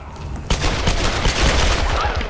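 Gunfire in the video game Tomb Raider, a loud burst of rapid shots that starts abruptly and carries on as a dense, crackling volley for about two seconds.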